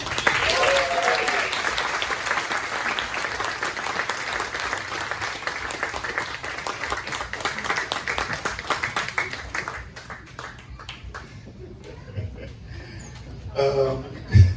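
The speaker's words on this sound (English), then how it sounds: "You gotta clap again for my family." A crowd applauds loudly and steadily for about ten seconds, then the clapping thins and fades as scattered voices and shouts come through.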